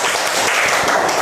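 Students in a classroom break into brief, dense applause, a short burst of many hands clapping at once.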